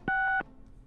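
A single dual-tone telephone keypad beep sounds in the Gabriel Knight video game, short and clean, then silence.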